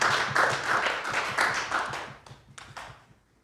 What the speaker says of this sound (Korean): 우리 옆 사람에게 우리 한번 박수 한 번만 쳐주세요